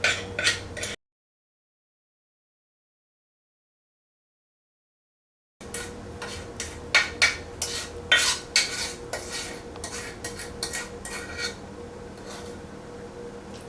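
A utensil scrapes and taps against a greased baking pan while blondie brownie batter is spread out, a short scrape, then a pause of silence, then a run of close, irregular clinks and scrapes.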